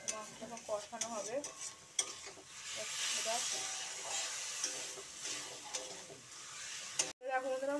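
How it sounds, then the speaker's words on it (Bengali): Minced meat frying hard in a pan over a high gas flame, a loud continuous hissing sizzle broken by scraping and clinking stirring strokes, with a voice speaking over the cooking in places. "তো ওটা আমি এখন একটু কষিয়ে নিচ্ছি, গ্যাসটা জোরে দিয়েই আছে, মাংসটা এখন কষানো হবে।"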